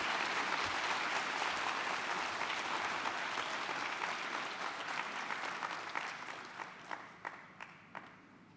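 An audience at a Ronald Reagan Presidential Foundation scholars program breaks into loud, sustained applause that fills the hall, then thins out toward the end into a few scattered individual claps.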